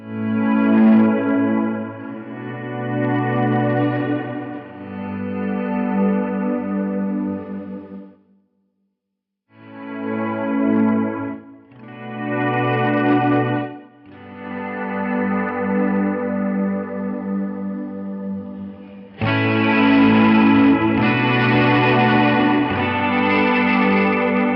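Electric guitar played through a volume pedal and a chain of effects pedals, sustained distorted chords with chorus and echo that swell in and out, go briefly silent, then end on a louder, harsher chord at full volume.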